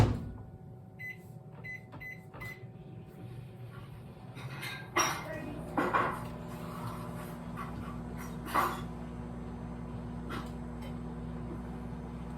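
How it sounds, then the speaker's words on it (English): A microwave oven heats halved butter in a microwave-safe bowl, giving a steady low hum throughout with a few light clinks of dishes and cutlery. "I'm gonna pop it in the microwave"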